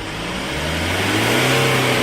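An older-model Kia Sorento engine revving as the accelerator is pressed during an exhaust smoke check, rising in pitch and loudness over about two seconds, heard close and alone.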